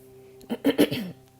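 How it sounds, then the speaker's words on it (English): A short, gruff throat clearing in a few quick bursts, close to the microphone, with quiet background between. "Sorry, I had to clear my throat"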